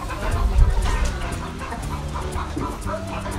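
Brahma chickens on a farm clucking and murmuring in a loose, continuous chorus, fairly close and loud, with some outdoor background noise and no clear speech.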